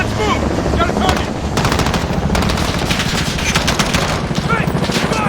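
Rapid, dense machine gun fire in a Modern Warfare combat mission, with loud sustained bursts and overlapping shots throughout and no pause.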